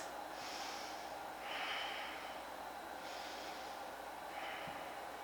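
Slow, audible breathing during a yoga half lift, four soft airy breaths spaced about a second apart, near and quiet, with no talk.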